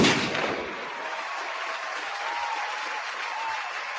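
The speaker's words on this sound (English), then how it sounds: "this clap was very long" Long, sustained applause from a crowd, a dense continuous clatter of clapping that starts loud and carries on steadily at similar strength, with no voices over it.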